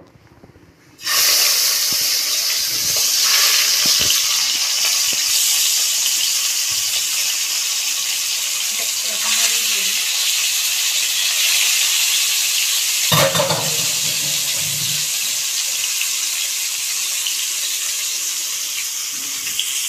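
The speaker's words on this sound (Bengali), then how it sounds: "আর এদিকে দিয়েছি আমি সর্ষের তেল। তো তেলটা গরম হয়ে গেছে। এবার আমি মাছ ভাজতে দেবো।" Catla fish rubbed with salt and turmeric hits hot mustard oil, setting off a sudden loud, close hissing sizzle that holds steady and strong to the end, with a few faint clinks partway through.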